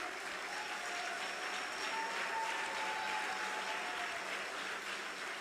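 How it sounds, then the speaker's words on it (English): Continuous clapping from a church congregation at a doctorate conferral ceremony, a dense even wash of hands that holds steady without pause throughout, with faint voices and a thin whistle-like tone beneath. "Now non-stop clapping should be there."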